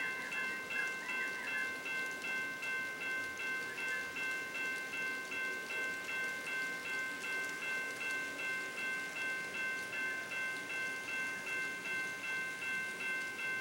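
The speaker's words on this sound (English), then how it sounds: "the train is on its way out" An N scale model train runs along a layout with a steady, faint mechanical whir and a light repeating rail rhythm, joined by a thin high whine, with nobody speaking.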